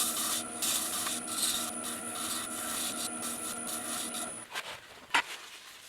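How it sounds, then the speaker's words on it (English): 400-grit sandpaper rubs rhythmically against a turned zebrano wood bowl in repeated back-and-forth strokes, with a faint steady whine in the background, ending with a few scattered scrapes. "I can use 400 grit sandpaper just to remove all the inconsistencies."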